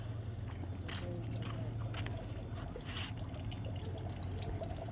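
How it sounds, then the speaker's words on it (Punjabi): Steady rushing water runs continuously throughout, a dense, even splashing flow with no pauses and no voices. "ਆ ਟੂਟੀ ਚਲੀ ਜਾਂਦੀ ਆ"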